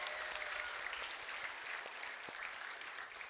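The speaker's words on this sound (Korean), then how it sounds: "우리 부모님들께 감사의 박수 함께 올려드립시다" Steady audience applause of thanks at a church Sunday service, directed to the parents, a dense sustained wash of many hands clapping with no voices on top.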